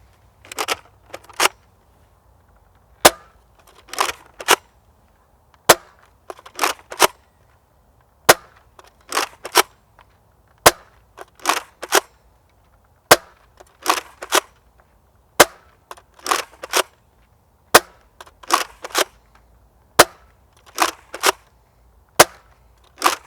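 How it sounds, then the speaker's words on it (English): A Nerf Rival Apollo blaster fires standard foam rounds in a steady series of sharp, close snapping shots, each followed by a brief mechanical rattle, about a dozen shots spaced evenly with quiet gaps between and no talking. "first up we got the Apollo. We got it loaded up with your standard Nerf Rival rounds."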